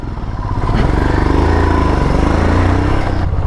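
A Royal Enfield Himalayan motorcycle pulls away after a roadside chai stop in the Everest region, its single-cylinder engine thumping loud and close in a steady throbbing rhythm as it builds speed, with no voices.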